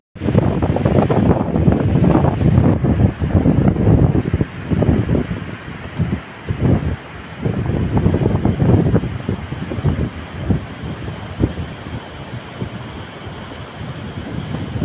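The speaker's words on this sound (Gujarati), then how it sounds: "જુઓ મિત્રો, સમુદ્ર છે ને એ ઘૂઘવાટા કરે છે." Sea waves surge and roar along the rocky coast by the sea cave shrine at Dayal near Mahuva, a broad rushing wash that swells and fades in uneven bursts, heavily mixed with gusting wind buffeting the microphone.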